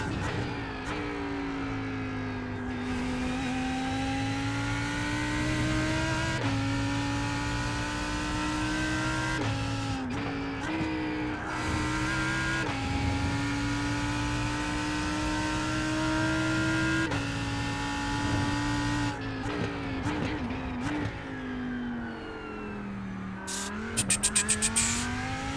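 Lamborghini Huracan GT3 Evo racing in the iRacing sim, its engine droning and rising through gears with repeated upshifts and downshifts over a long run, tyre squeal near the end, no talking.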